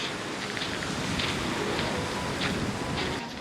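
Wind sweeps across a seaside cove at Papaz Koyu near İzmir during an off-road camping trip, a steady close broadband rush buffeting the microphone for the whole stretch, with no voices.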